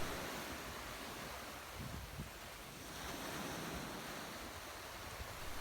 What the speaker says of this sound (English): I just wanted you to hear a little bit of that wonderful beach.